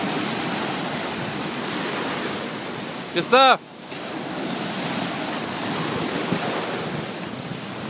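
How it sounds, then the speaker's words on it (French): Ocean waves break on the beach at Hallandale, Florida in a constant loud roar of surf, cut by one brief shouted call partway through. "Ah, il y a des bonnes vagues."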